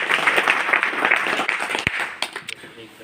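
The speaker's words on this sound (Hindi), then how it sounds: "इनका एक बार फिर से जोरदार तालियों।" A crowd at a political gathering in Bhadra applauds Cabinet Minister Avinash Gehlot with dense, continuous clapping that fades out over a few seconds, while a voice talks beneath it.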